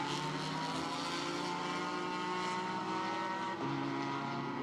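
A GT4 race car passes the start-finish line at Monza during qualifying, its engine a steady, loud drone that holds for several seconds with a slight shift in pitch near the end.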